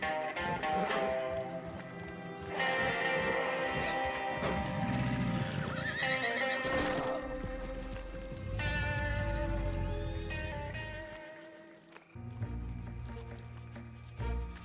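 A horse in Red Dead Online neighs and whinnies repeatedly, loud and close, over clip-clopping hooves and a layered game music bed, with no talk.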